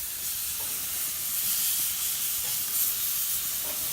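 Chicken pieces grilling over an open fire give off a steady, even sizzle and hiss with no break, close up and alone, with a few faint pops now and then.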